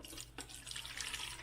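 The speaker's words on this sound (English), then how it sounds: "Now, this is purified water out of my Tyant" Purified water from a Tyent water machine runs steadily into a 12-ounce bottle, a continuous close hiss of pouring with a brief splashy surge early on, no talking.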